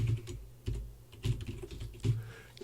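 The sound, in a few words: typing an email address on a keyboard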